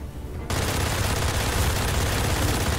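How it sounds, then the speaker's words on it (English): Dense, continuous gunfire from the player's weapon in Witchfire, a loud, close roar of rapid shots that erupts abruptly after a short quieter moment and keeps going without a break. "Oh, I'm shooting."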